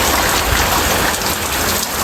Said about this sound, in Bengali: দেখেন কি পরিমাণে বৃষ্টি নামছে, মানে একদম ঝুম বৃষ্টি।